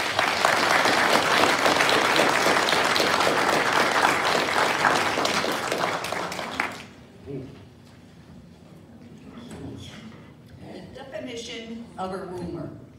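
Homeowners' association meeting audience claps loudly and steadily for several seconds, then the applause stops abruptly and people begin talking quietly in the room.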